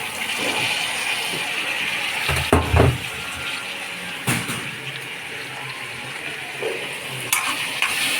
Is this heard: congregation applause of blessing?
no